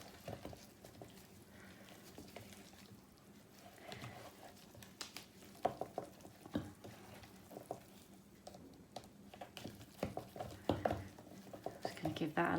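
A herb mixture for flavour cubes is stirred in a bowl, giving soft intermittent scraping, squishing and clinking patter that grows busier toward the end, with faint background noise.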